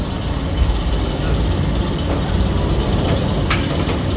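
The Nemesis Reborn roller coaster train at Alton Towers in Forbidden Valley rolls out along its track, giving a loud, continuous roar and rattle of wheels on steel that holds steady throughout.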